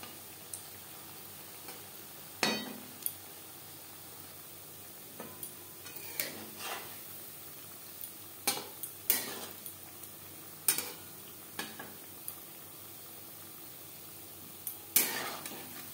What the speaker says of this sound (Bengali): ভাজবো মিডিয়াম ফ্লেমে